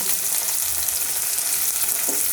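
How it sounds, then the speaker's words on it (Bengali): Okra from a kitchen garden frying in a pan, a dense, continuous close sizzle with faint stirring, steady and loud with no talk. "খুব ভালো করে এদিকটাও ভেজে নেব।"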